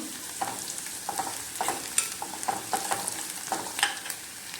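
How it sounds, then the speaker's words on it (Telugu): Onions fry in a pan with a steady, gentle sizzle, and light scraping stirs and clicks of a utensil pop up irregularly, close and moderately quiet. "ఈలోపు మన ఆనియన్స్ ఫ్రై అయ్యి"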